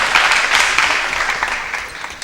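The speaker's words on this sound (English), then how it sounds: "another round of applause for the first runners up" A debate tournament audience claps for the first runners-up, dense continuous applause that is loud and close and tapers slightly over its short span.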